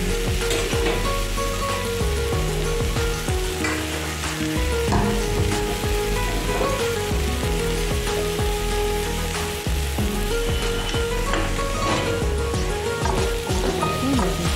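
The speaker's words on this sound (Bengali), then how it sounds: "আলু ফুলকপি সয়াবিন কিন্তু আমি ভালো করে ভেজে নিচ্ছি" Potatoes, cauliflower and soy chunks fry loudly in oil, a dense, constant sizzle broken by scraping stirs of a spoon in the pan.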